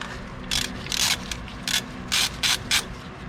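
Ratchet loosening the brake hose bracket bolt on a 1992-96 Toyota Camry wagon rear strut, about eight short bursts of clicking, some quick and doubled, close and distinct against faint shop background.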